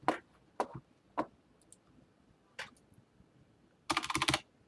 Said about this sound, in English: Oh, it appears the cat ran across the keyboard.